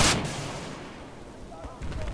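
A rocket launcher fires in the video game Battlefield 4 with a single loud, sharp blast at the start. The blast decays into a long rumbling tail, and a few fainter game sounds follow.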